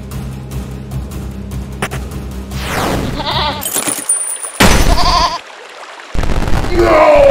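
In the video game There Is No Game, a goat bleats amid loud, glitchy digital effects, abrupt dropouts and bursts of noise that cut in and out.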